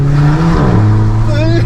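A loud car engine revs with the window open, the note rising and falling through gears with a deep, steady exhaust roar close by; a voice is faintly present alongside.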